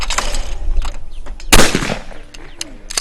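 A single loud, close shotgun blast fires at a clay target during outdoor clay shooting, a sharp report ringing out amid low wind rumble and faint birds.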